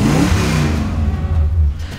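A high-mileage 440-powered car, worn hard, revs loudly up close, its deep engine drone swelling and shifting pitch steadily for two seconds with no voices.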